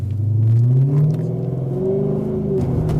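A 2013 Dodge Charger SRT8 with 470 horsepower revs and accelerates, a deep close rumbling engine note climbing and falling in pitch, loud and steady with no voices.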